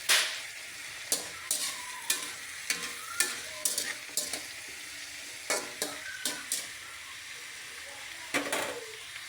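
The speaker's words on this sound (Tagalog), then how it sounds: "it's time naman na igisa na po natin itong ating saging, mga boss" Unripe banana pieces fry in a pan while a utensil stirs and scrapes them in regular sharp strokes over a soft continuous sizzle, heard close up with no talking.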